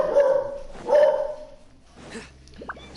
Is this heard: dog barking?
yes